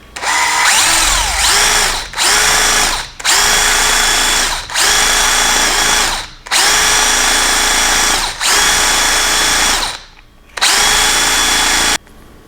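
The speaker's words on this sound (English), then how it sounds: "So I've got my drill on high." A power drill on high speed degassing apple cider wine whirs loudly in repeated bursts of a couple of seconds each, with short pauses between, its pitch rising as it spins up.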